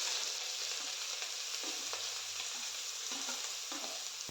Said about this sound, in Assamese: ইয়াত তেল গৰম হৈ গৈছে, তাত মই গোটা মছলা অকণ দি লৰালৰি কৰি পিঁয়াজখিনি ঢালি দিলোঁ।